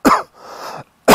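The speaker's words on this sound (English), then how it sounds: "Excuse me. Got a little cough." A single sharp cough near the microphone, followed by a brief raspy breath and a second cough at the end.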